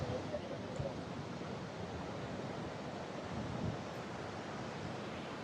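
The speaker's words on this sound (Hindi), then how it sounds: "So look at this waterfall, so majestic." A waterfall near Geiranger, Norway, heard from a mountain viewpoint, gives a steady, dense rushing roar that fills the whole stretch without a break, with a little wind buffeting mixed in.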